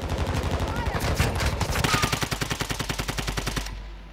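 Sustained automatic gunfire in Call of Duty: Modern Warfare II rattles in a fast, steady stream of close, loud shots for about four seconds before cutting off.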